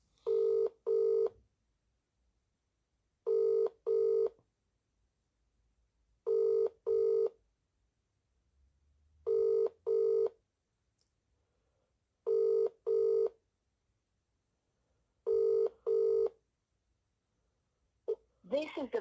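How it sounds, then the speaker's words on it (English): A mobile phone ring tone sounds in paired bursts, repeating six times at steady intervals, clear and electronic, before a Vodafone voicemail greeting starts at the very end. "Ringing up Christopher Browell."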